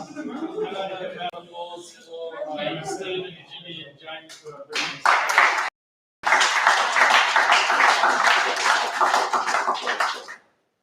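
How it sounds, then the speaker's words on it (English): A community gathering audience in Perth bursts into applause, loud dense clapping close by after some talk and scattered claps, breaking off briefly then resuming for several seconds before stopping. "a round of applause for yourselves"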